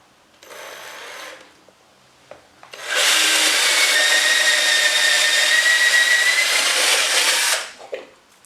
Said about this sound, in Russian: Выставляем по краю и производим сверление